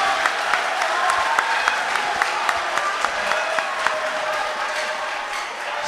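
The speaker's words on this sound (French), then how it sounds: "vous avez 5 secondes pour applaudir" Steady, loud applause fills a hall during the grand final of a televised school quiz contest, with sharp individual claps standing out above the continuous clatter throughout.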